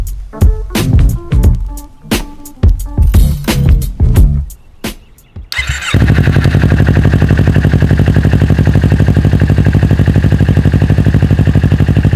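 An R3 streetfighter motorcycle is rolled out with clattering knocks and thuds, then its engine starts and settles into a loud, steady, rapid idle that runs for about six seconds.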